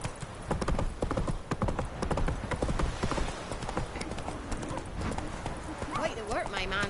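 A horse clip-clops at a steady gallop in the video game Witcher 3, hooves beating rapidly and close, with voices talking over the hoofbeats.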